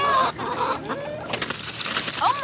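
Backyard chickens cluck and chirp nearby in short, scattered calls, with a brief rustling burst in between.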